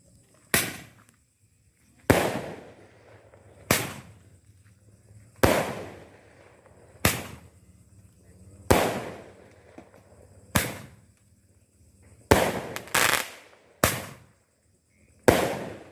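Large 1.9-inch roman candles and assorted special fireworks fire outdoors, with about a dozen sharp, loud bursts spaced a second or two apart, each cracking and then trailing off, with a pair of quick pops near the end.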